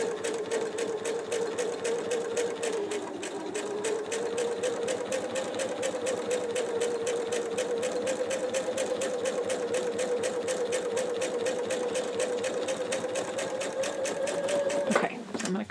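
A sewing machine runs slowly and steadily for about fifteen seconds, stitching along a laser guide line with a continuous rhythmic needle chatter and motor hum, then stops abruptly near the end.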